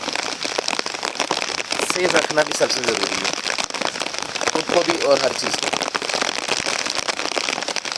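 Heavy rain pours steadily during a monsoon downpour, a dense hiss with crackling drops close by that never lets up, while someone talks over it throughout.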